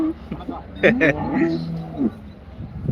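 A broad-bodied dairy cow at the Karungalpalayam cattle market in Erode moos once, loud and close, over the talk of men nearby.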